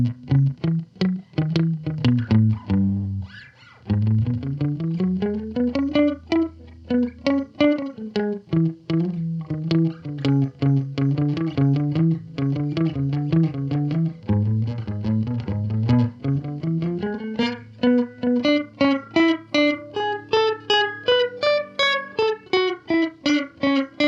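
Distorted electric guitar plays a riff through a JAM Pedals Delay Llama Xtreme delay pedal, each note followed by quick rhythmic repeats that stack into a continuous pulsing texture.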